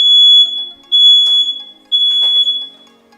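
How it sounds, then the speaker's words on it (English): A Google Nest Protect smoke alarm sounds during its self-test: loud, piercing high-pitched beeps repeat in three long pulses, about one per second, close to the device. "Testing smoke."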